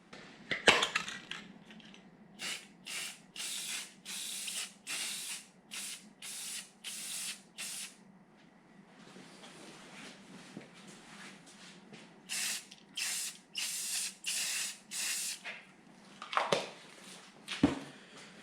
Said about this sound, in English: I'll get the spray paint can and throw some of that on